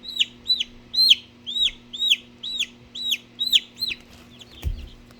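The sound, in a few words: chicks chirping while being handled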